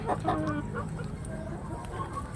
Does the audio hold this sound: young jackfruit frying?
no